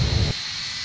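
Aircraft engine noise from a plane taxiing off the runway in the Roblox flight game Flightline, a loud steady jet rumble for about a third of a second that then drops to a faint hum.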